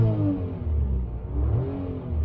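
Daihatsu Canbus kei car engine revved while parked, a close, smooth rising and falling engine note with two short blips.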